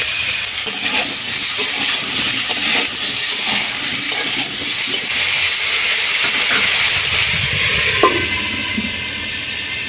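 Cut potatoes and papaya sizzle in leftover fish-frying oil with black cumin, a loud continuous hiss and crackle with scattered stirring knocks throughout.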